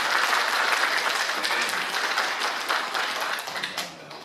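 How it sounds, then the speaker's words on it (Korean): A congregation claps during a church service, a full, continuous round of applause that fades gradually toward the end. "우리 하나님께 모든 영광으로 박수를 올려드리겠습니다."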